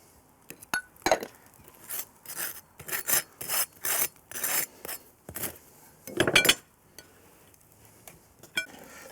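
A knife rasps back and forth across toast, spreading butter in about a dozen scraping strokes with brief gaps, close-up and fairly quiet, with a couple of faint clinks and no speech.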